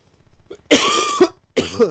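Two harsh, close coughs, the first longer and rasping, the second shorter after a brief pause, with no talking.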